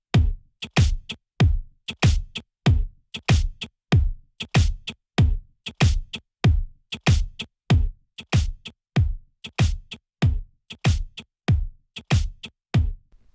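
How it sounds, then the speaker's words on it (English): Drums pass through the older Brainworx Shadow Hills compressor plugin, a punchy steady beat of sharp kick and snare hits repeating evenly with no voices. "So that's the sound of the older Brainworx Shadow Hills compressor."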